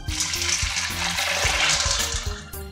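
Cold water poured from a tap into a bowl of chickpeas, a loud continuous rushing splash with gurgling, close by and alone, cutting off near the end.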